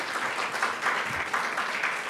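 An Easter Sunday church congregation claps loudly and steadily, many hands together in a dense, continuous roll of applause with faint rhythmic surges.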